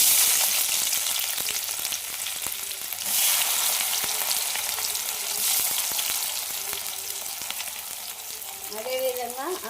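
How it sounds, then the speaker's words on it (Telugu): Chopped onion and green chilies frying in hot oil in a pan, a steady bright sizzle with occasional stirring scrapes and brief louder bursts, no talking. "ఉల్లిపాయ పచ్చిమిర్చి వేసుకున్నాం"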